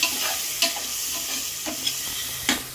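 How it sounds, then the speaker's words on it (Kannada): Tomato frying in a pan for egg biryani, a soft steady sizzle broken by a few sharp scraping strokes of stirring. "ಟೊಮೊಟೊ ಒಂದು ಸ್ವಲ್ಪ ಫ್ರೈ ಆಗಬೇಕು"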